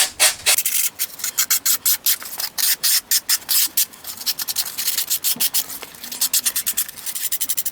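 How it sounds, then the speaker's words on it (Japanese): A hand tool scrapes and rasps burrs off a cast intake manifold part for a Honda Monkey four-cylinder engine build, a close, rapid series of rhythmic abrasive strokes with brief gaps between them. "とりあえず毛羽だけでも先に取っちゃいますね"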